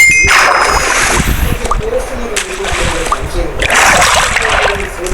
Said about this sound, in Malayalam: നമ്മൾ ആദ്യം തന്നെ വെള്ളത്തിലായിട്ടാണ് വന്ന് വീണത്